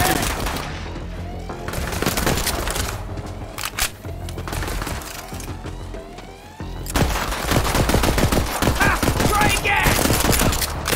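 Loud, rapid bursts of gunfire from the video game Borderlands 3, with dense volleys and impacts that briefly thin out before resuming at full intensity.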